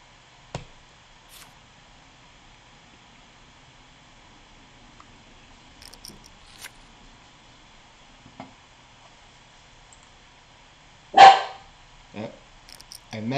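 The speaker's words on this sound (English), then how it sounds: "you might be able to hear my dog, and there you go. She's barking." A pet dog indoors gives a few scattered barks: faint single yips early on, then one louder sharp bark followed by a couple of shorter ones near the end, with long quiet gaps between.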